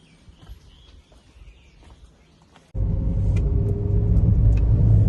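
A car sits in a quiet outdoor spot with faint birdsong, then a loud, deep driving rumble kicks in abruptly and continues steadily.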